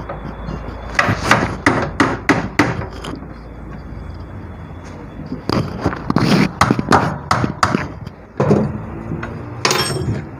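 A washer being hammered into a motorcycle shock absorber on a CD 70 or CG125: two loud bursts of rapid metallic hammer blows, with a short quiet gap between them.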